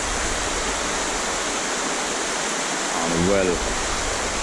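A brown river flows with a constant broadband rushing wash, close and even throughout, while a voice briefly speaks over it near the end.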